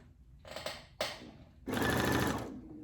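A Brother Essence VM5200 sewing machine stitches quilting in three close bursts: two short runs, then a longer steady whir of about a second. It is loud and near, with no voices.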